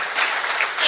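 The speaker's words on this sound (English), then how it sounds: "Where's my thunderous applause?" Thunderous applause from a conference audience, a dense unbroken burst of clapping heard briefly and at close range.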